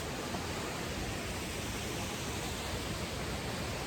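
Waterfall at Barua Sagar, a steady, dense rushing roar that holds at an even level throughout with no pauses and no voices.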